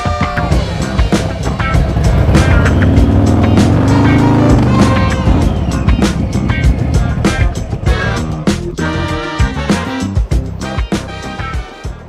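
A Harley-Davidson motorcycle being ridden, its engine droning loudly and steadily, then breaking into choppy revving bursts toward the end, with no voices.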